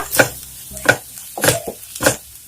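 Vegetables being sautéed in a pan make four evenly spaced scraping strokes about half a second apart, each a short, loud, broad swish over a low background.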